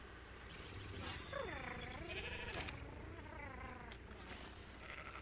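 Sheep bleating in the video game ARK Scorched Earth, a couple of wavering, quavering bleats rising and falling clearly over a steady background hum of game ambience.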